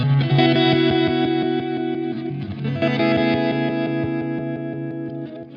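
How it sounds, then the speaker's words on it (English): Electric guitar through a reverse delay effect, with chords and notes swelling in backwards and trailing repeats, a dense, washy, sustained sound, loud and close with no talking. "speed is how quickly that reverse delay or how slowly it will swell in"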